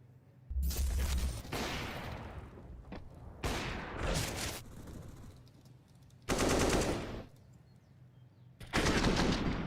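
Rapid automatic gunfire bursts from a Counter-Strike esports match, several loud rattling volleys separated by quieter stretches of distant shots and game ambience, with no talk over them.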